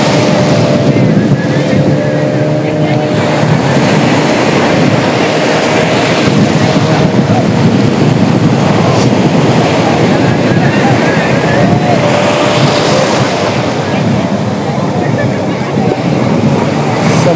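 A motorboat towing a banana ride rushes over sea waves at Malvan's Dandi Beach, with a continuous loud roar of engine, splashing surf and heavy wind buffeting the microphone.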